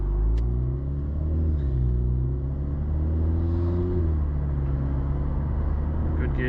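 Ford Falcon engine rumbling steadily at close range while accelerating, with audible rises and dips in pitch as it shifts gears, a continuous loud drone throughout.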